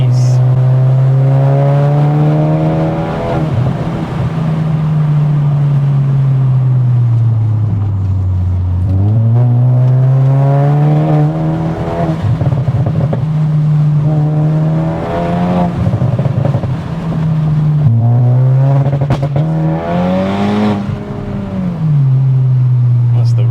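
Stage 3 Mk3 Seat Leon Cupra R, a loud 500 bhp four-wheel-drive hatchback, doing a rolling launch: the engine roars and climbs through repeated rising sweeps with brief dips at gear changes, heard from inside the car with people talking over it.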